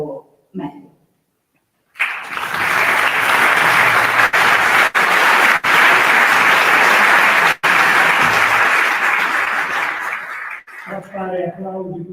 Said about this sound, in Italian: A fare applausi così a scena aperta non è complimento.